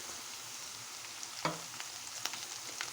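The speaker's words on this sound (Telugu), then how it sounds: "ఇప్పుడు కరివేపాకు వేసుకుందాం." Curry leaves dropped into a pan of frying onions and bitter gourd, giving a steady close sizzle with a sharp crackling burst as they land and a few smaller pops and stirring clicks after.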